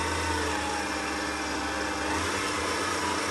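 Electric mixer spinning while making a special occasion cake, a steady continuous whir with a low motor hum, constant in level throughout and heard on its own without talk.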